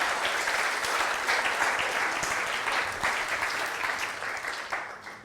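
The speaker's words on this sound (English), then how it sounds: "just one final round of applause for the food as well" Audience at a tech diversity and inclusion launch event breaking into a full round of applause, many hands clapping loudly for several seconds before it gradually tapers off.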